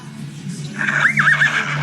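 A horse whinny played from an animal sound app on a phone, a short rising-and-falling tonal call lasting about a second over a steady low hum in a busy indoor setting.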